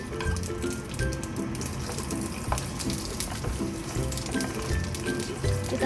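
Chili, garlic and kencur fry for sambal, a steady hissing sizzle of hot oil with faint crackles and pops, fairly quiet and close, continuing without pause.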